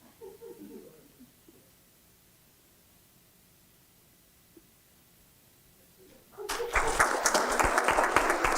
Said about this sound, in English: closing, just like a big applause for all the winners